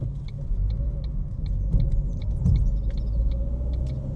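A Ford Fiesta Mk6 that was left on a driveway for 12 years is being driven. A steady low engine and road rumble is heard from inside the car, with faint light ticking and clicking on top.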